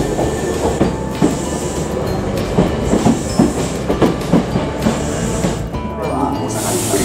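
A Hankyu Kyoto Line local train rumbles and clatters with rhythmic clickety-clack of wheels on rails as it pulls away from Awaji Station, steady and fairly loud, with a faint high tone above.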